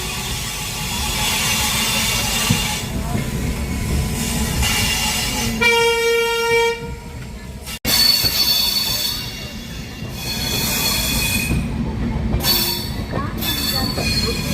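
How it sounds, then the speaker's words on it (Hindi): Magadh Express rolling toward New Delhi past Shivaji Bridge, a loud continuous rumble of wheels on track with metallic wheel squeal, a brief harmonic horn-like tone midway and a sharp clank, heard from on board. "शिवाजी ब्रिज से भी निकल चुकी है अपनी ट्रेन"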